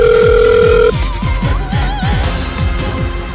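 Two steady dial-tone beeps while a call is placed in the Closers game story, followed by a warbling ringback tone over a repeating rhythmic background track, loud and close, with no speech.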